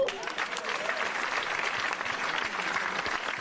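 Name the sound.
audience applause at debate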